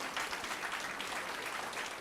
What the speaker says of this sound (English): So I want to give her a big applause for that.